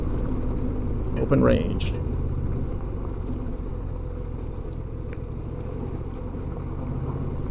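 A Honda Transalp motorcycle rides alone along a graded gravel road, its engine giving a steady low rumble with wind noise. Someone speaks briefly over it early on.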